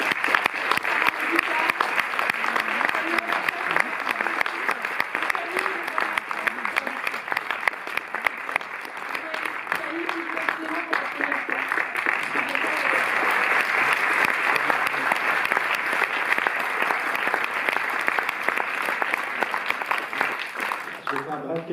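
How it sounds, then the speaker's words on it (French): A cinema hall audience at the Cinémathèque in Paris applauding warmly after a film presentation, a dense, sustained wash of clapping lasting the whole stretch, with a few voices faintly mixed in. "merci pour vos chaleureux applaudissements"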